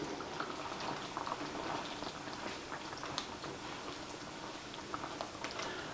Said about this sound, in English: I'll let this be simmering for about 7 minutes now.